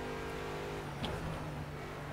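An Aston Martin race car in Project CARS, its engine not yet up to temperature and its tyres still cold, hums faintly with a steady low engine drone and a thin tonal whine throughout.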